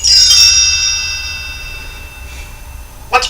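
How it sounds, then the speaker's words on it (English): Bright chimes ring out for a Muppets read-along, a clear bell-like tone with long shimmering overtones that fade slowly. A second short metallic ding sounds near the end. "You will know it is time to turn the page when you hear the chimes ring like this."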